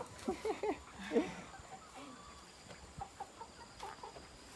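Chickens and a rooster on a Thai backyard farm, several short close clucks in quick bursts early on, then sparser softer clucks against a quiet outdoor background, with faint voices nearby.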